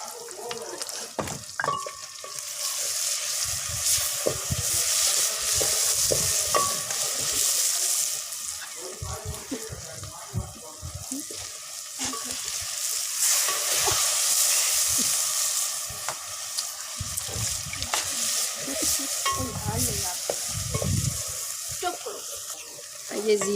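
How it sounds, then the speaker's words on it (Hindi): Potatoes frying with onions in a pan for aloo, a continuous hissing sizzle with stirring knocks and scrapes, rising and falling in loudness, with bursts of running water and brief low voices now and then. "हमारे आलू फ्राई हो रहे थे प्याज ऑनियन में"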